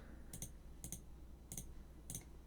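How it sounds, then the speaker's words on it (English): Four soft, separate keystrokes on a computer keyboard come at a slow, even pace, about half a second apart. They are faint and close, over a low steady room hum, with no talking. "Sometimes I love this keyboard, and sometimes it just feels like I'm so bad at typing."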